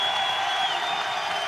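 A college basketball arena crowd roars and cheers during key possessions, forming a loud, sustained wash of crowd noise with a high whistle-like tone running through it and no clear pauses.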